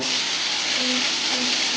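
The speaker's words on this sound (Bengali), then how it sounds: "এবার এখানে চিংড়ি মাছগুলো আমি নুন হলুদ দিয়ে মেখে রেখে দিয়েছিলাম এগুলো আমি প্রথমে ভেজে নেব" Prawns rubbed with salt and turmeric frying in oil in a wok give a steady, close, dense sizzle that hisses evenly throughout with no talking.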